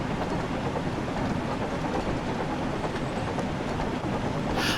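Loud continuous rumble and rattling clatter of a tank engine locomotive rolling along the track in a Sodor railway game, dense and unbroken throughout with no talking.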